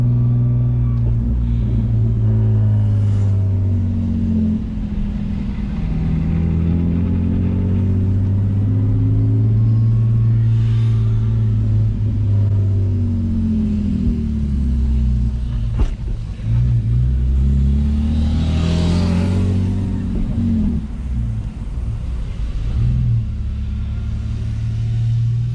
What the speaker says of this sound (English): You hear my diff just sitting on the freaking sway bar right now.